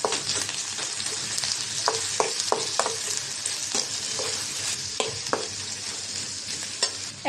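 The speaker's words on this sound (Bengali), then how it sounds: "শুটকিটাও ভেজে নেব পেঁয়াজের সাথে। এখন দিয়ে দেব রসুন বাটা।" Dried fish frying with onion and garlic paste in a pan gives a steady close sizzle, broken by regular scraping knocks of a spoon stirring through the mixture. No one speaks.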